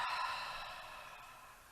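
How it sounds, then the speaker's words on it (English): A deep, breathy exhale released after a held breath during a yoga cool-down, a single soft sigh that starts fuller and fades gradually over under two seconds, close to the microphone with no talking. "And exhale, just let it go."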